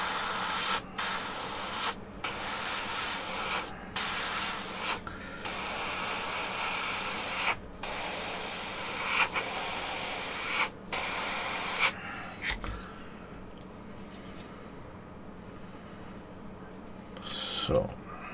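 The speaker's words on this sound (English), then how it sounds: "I do love doing the washes through the airbrush." An airbrush sprays washes onto a dragon scale model, a steady close hiss broken by several short pauses before it stops, leaving quieter room noise.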